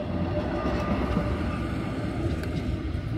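A small train rolls past on a rail line during a gravel bike ride in the Harz, a steady continuous rumble and rattle held at an even level throughout.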